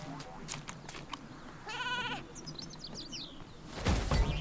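A sheep enemy bleats twice in the Skylanders Trap Team video game, a short wavering game sound effect heard over background game audio and someone talking.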